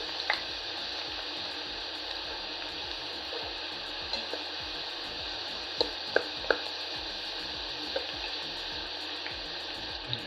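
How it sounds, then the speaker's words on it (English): Thin potato slices fry in hot oil with a constant bubbling sizzle, broken by occasional soft clicks and scrapes as they are stirred, close and steady with no talking. "hardly 10 to 15 slices are dropped, give a small stir so the potatoes gets to move around and get cooked evenly"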